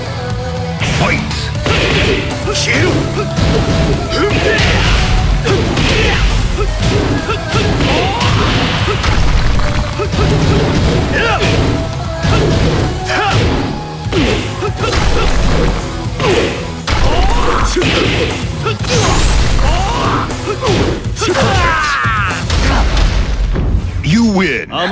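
Rapid punches, kicks, thuds and crashing explosive impacts from a Tekken 6 fight, loud and dense over a music backing, with announcer and character voice calls between blows.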